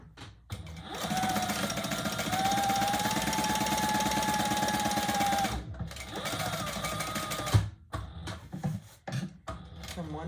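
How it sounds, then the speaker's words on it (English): A sewing machine stitches a bowler handbag, running in a long steady loud burst, pausing briefly, then running again before stopping with a few handling knocks. "we're going to stitch up from the bottom and go back down"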